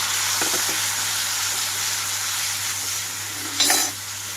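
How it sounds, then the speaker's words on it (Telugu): Whole tomatoes drop into hot oil in a pan for pandumirchi dosabaddalu, giving a steady, fairly loud hiss with a few scraping stirs and a brief louder splash of sizzle near the end. "ఇప్పుడు ఇదే ఆయిల్లోకి టమాటా మొత్తం వేసేసుకుంటున్నాను"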